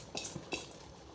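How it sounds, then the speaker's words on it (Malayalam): A spoon stirs a thick herbal lehyam paste in a metal pot, giving two or three quick scraping clinks against the pot over a faint background, with no speech. "ഇത് നന്നായിട്ട് ഇളക്കി യോജിപ്പിച്ച് കൊടുക്കാം"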